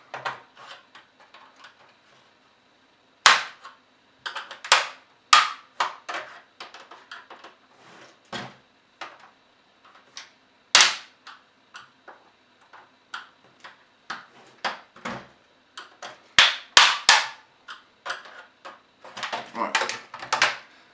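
Plastic clips on an Xbox 360 case snapping loose as a screwdriver pries them open, giving a string of sharp, close clicks and pops with brief pauses between bursts, with no voice over them.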